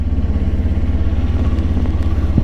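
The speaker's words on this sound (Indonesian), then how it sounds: "ini dulu ngangetin motor dulu karena ini dingin gitu guys" Kawasaki Ninja 400 motorcycle idling as it warms up on a cold morning, a steady close low-pitched engine thrum with an even pulsing beat throughout and no talking.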